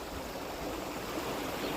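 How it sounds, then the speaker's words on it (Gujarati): Steady rushing water overflowing from a full lake after heavy rain, a continuous broad wash like a stream pouring over, fairly close and with no voices. "તમને આ તળાવે દેખાડી દઉં જો પાણી જાય"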